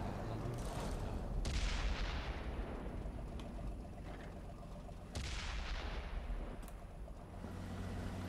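Tank cannons fire in World of Tanks on console: two heavy booms a few seconds apart, each followed by a long rumbling decay over a low background of engine noise.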